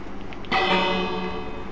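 A bell in the video game Minecraft rings once with a sharp strike, then a bright, sustained metallic tone that slowly fades, clear and close after a short quiet lead-in.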